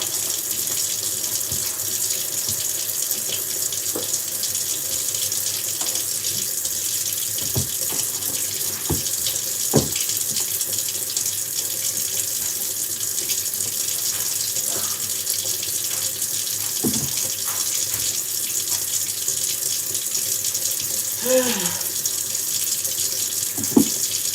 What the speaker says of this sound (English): allowing my water just run and run and run non-stop